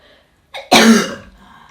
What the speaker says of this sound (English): Good cough, well done.